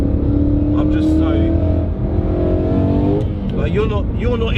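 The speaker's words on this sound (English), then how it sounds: "so that's fourth gear, full throttle" An 800 bhp supercharged Mustang pulls hard at full throttle in fourth gear, a loud rising engine roar with a steady climbing pitch that dips briefly mid-run and resumes, close to the listener and continuous, with talk over it.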